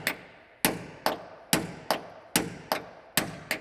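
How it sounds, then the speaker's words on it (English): Hammer blows pound bolts out of an abandoned airplane's wing, eight sharp metallic strikes at a steady rhythm, each ringing briefly before decaying, close and loud with no talk. "So it looks like we got 10 bolts to pound out of here."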